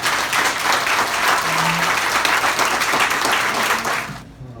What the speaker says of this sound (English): and I think we all deserve John a great round of applause for what he's done